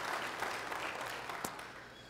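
Church congregation applauding during a Sunday service, a steady soft wash of many hands clapping at a moderate distance for about two seconds, with one sharper clap near the end.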